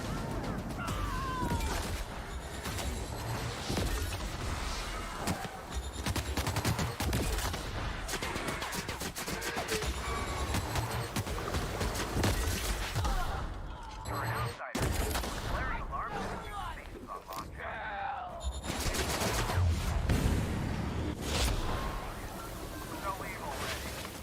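Turret gunfire in the video game Outer Worlds, dense bursts of shots and impacts over continuous game sound effects, with a voice speaking through parts of it.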